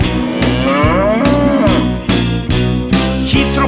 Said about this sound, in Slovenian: muka na ves glas